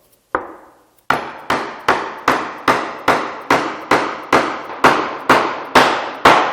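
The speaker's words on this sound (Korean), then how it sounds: "저는 고무망치를 사용해서 조립을 하도록 할게요" A rubber mallet strikes a wooden joint being assembled: one single knock, a short pause, then about twelve evenly spaced sharp taps, loud and close, each ending in a brief decay.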